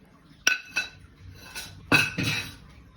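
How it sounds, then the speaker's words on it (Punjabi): Cumin seeds pounded in a small mortar for jal jeera, a summer drink, heard as several sharp, hard clinking strikes in irregular rhythm, close and fairly loud, with no talk. "ਜੀਰੇ ਨੂੰ ਹੁਣ ਆਪਾਂ ਬਰੀਕ ਕਰ ਲੈਣੇ ਆ ਕੁੱਟ ਕੇ ਆਪਾਂ ਨੇ ਕੁੰਡੀ ਵਿੱਚ ਪਾ ਲੈ ਛੋਟੀ ਜਿਹੀ ਦੇ ਵਿੱਚ"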